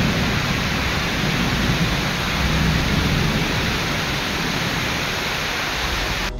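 Heavy first-of-season rain pours down in Bengaluru, a dense, steady broadband hiss with a low rumble underneath, loud and constant throughout with no voices.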